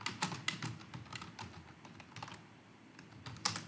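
Light, rapid keystrokes on a computer keyboard tap out a word in quick irregular bursts, close and fairly quiet, with brief pauses between clusters of clicks.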